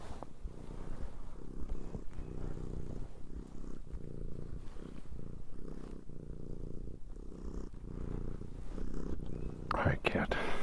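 A cat purrs on a person's shoulder outdoors in snow, a steady low close rumble running throughout with soft breathy texture and faint handling noise.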